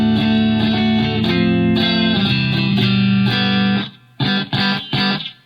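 Distorted electric guitar playing chords and riffs through a pedalboard, reverb off, dry with no reverb tail, loud and close, ending with short choppy stabs.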